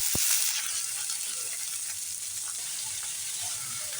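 Onions sizzle in hot oil in a pan already seasoned with whole garam masala, cumin, dried chilli, bay leaf and garlic, giving a steady close hiss with a brief clink at the start and no voices.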